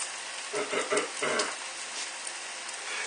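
Bacon pan-frying over medium heat crackles and spits, a few louder bursts early on settling into a steady, even sizzle up close, with no one talking.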